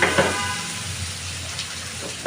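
Potatoes fry in a pan on a home stove, giving a steady, close sizzle with faint stirring and scraping throughout, no talk.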